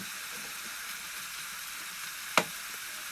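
Chicken breast and mushroom in white cream sizzle steadily in a pan as they are stirred, a constant close hiss broken by one sharp knock of a utensil against the pan.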